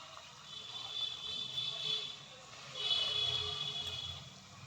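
Gulgule batter dumplings dropped into hot ghee and frying at medium heat, giving a steady soft sizzle and bubbling hiss that swells and eases across the clip.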